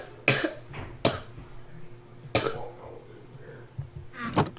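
Several sharp coughs and throat clearing from a single person, spaced irregularly over a few seconds, close to the microphone against a low background hum.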